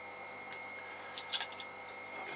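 A sponge dabs and squeezes water off a freshly wheel-thrown pottery vase, giving a few soft, wet squishes and drips, close and quiet over a steady low hum.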